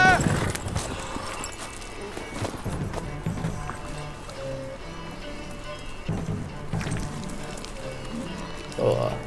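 Hooves clip-clop at a steady run with rain-like patter, under continuous talking; a horse whinnies briefly near the end, in the video game The Witcher 3: Wild Hunt.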